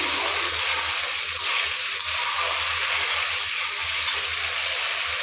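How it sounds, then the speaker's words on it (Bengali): Spices with turmeric powder frying in a pan, a loud, steady hiss of sizzling oil with faint stirring, close up and without talk. "এর মধ্যে দিব হলুদ গুঁড়ো, এরকম বন্ধুরা আমি এখন মশলা কষাচ্ছি।"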